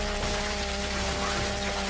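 Steady rain falling in the video game Gears of War 4, a continuous even hiss with a low background hum and no talk.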